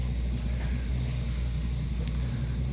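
A 1939 Chevy hot rod pickup with a 350 engine on the move, a steady low engine rumble and road drone heard from inside the cab, continuous and fairly loud.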